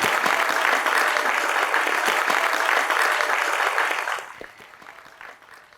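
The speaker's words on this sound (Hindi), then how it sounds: "उनके लिए भी तालियां बजाई दें।" An audience at a school event applauds the principal and a guest, dense sustained clapping for about four seconds before it thins out and fades to scattered claps.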